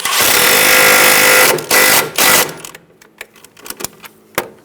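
Power tool snugging down a bolt on a front strut assembly of a 2010-2014 Subaru Outback, a loud close buzzing run followed by two short bursts, then scattered metallic clicks and taps.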